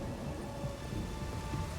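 Steady rain pours in The Witcher 3, a dense continuous hiss with a low rumble of thunder underneath, even and unbroken throughout.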